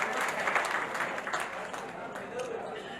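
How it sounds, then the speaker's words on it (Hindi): A crowd at a free charity camp in Mumbai for disabled people applauds in a fairly soft, steady patter of many hands that thins out toward the end. "तो इस डायनेमिक यंग कपल के लिए भी जोरदार तालियां बजाते हैं।"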